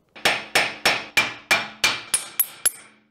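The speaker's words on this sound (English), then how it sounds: "now we're gonna hammer away since this thing is super stuck on there because of all the corrosion." A hammer strikes a corroded wheel bearing on a high-mileage BMW M3 Competition hub nine times in a steady rhythm, sharp metallic bangs ringing close and loud, the last few quicker and brighter, with no speech.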